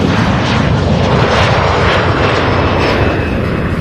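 An American Airlines jet airliner at Louisville International Airport, a loud, steady, broadband engine roar close by and filling the whole stretch, with no talk.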